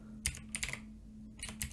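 Keys on a computer keyboard clatter in two quick bursts as an IP address is typed close to the microphone, with a faint steady hum underneath.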